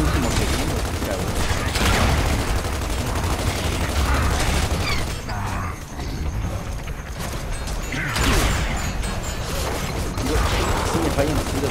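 Dense gunfire from the video game Gears of War 2 fills the scene, with continuous loud bursts and mechanical clatter, a brief lull midway, then renewed firing.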